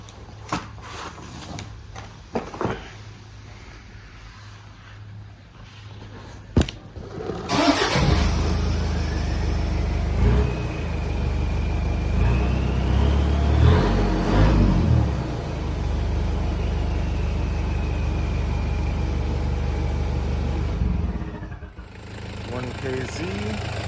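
A Toyota Prado 95 turbo with a KZ engine and PPD performance exhaust starts with a few clicks, then idles and revs in a deep, loud, close rumble that swells and settles, with brief talk before the start.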